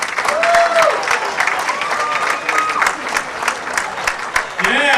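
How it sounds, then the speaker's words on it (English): Comedy show audience at a stand-up event applauds and cheers for a comedian, loud and close. A presenter's voice runs over the clapping and crowd noise. "Next round of applause"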